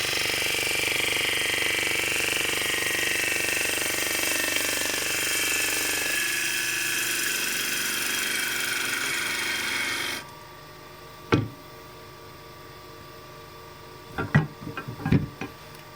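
Woodturning scraper cutting a bowl on a lathe, a loud continuous rasping scrape that stops abruptly, leaving a quiet hum broken by a few sharp knocks near the end.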